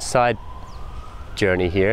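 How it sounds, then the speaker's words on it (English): A distant city siren in Cairo wails faintly in a steady tone between two stretches of someone talking. "you can maybe hear the sirens in the background."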